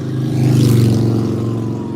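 A motorcycle engine drones steadily nearby, rumbling past with a low, throaty hum and no voices.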